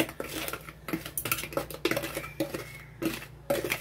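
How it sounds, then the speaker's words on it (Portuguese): A utensil scrapes and clinks against a bowl while bread pudding batter of bread, egg, sugar, butter and cinnamon is stirred, giving steady close-up rhythmic knocks and swishes with no talking over them. "Eu vou ficar mexendo. Vai ficar uma massinha bem cremosinha"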